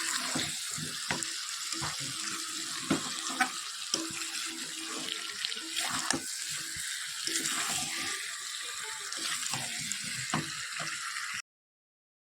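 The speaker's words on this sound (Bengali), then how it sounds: "তারপরে অল্প করে জল দেবো" A little water is poured into meat curry with potatoes that is frying in a pan. A steady rushing, splashing pour mixed with sizzle runs unbroken for about eleven seconds, then stops abruptly.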